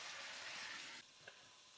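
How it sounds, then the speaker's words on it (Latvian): Chopped onion frying in oil in a pan, a steady broadband sizzle that fills the first second before dropping to a quieter hiss when a lid goes on, with one soft knock; no talk. "Taisam ciet un vēl pacepam sīpolu."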